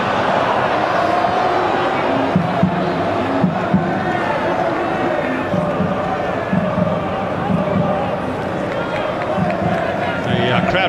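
A-League football crowd of about eleven thousand at Sydney Football Stadium, a steady roar and hubbub of many voices with occasional louder shouts, heard continuously under match commentary.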